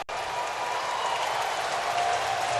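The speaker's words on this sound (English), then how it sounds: "Fans haven't had a lot to cheer about, but they're getting revved up here in the ninth" Baseball crowd at the Houston Astros ballpark cheering in the ninth inning of an Angels game, a loud, steady wash of applause and crowd noise that holds for the whole stretch.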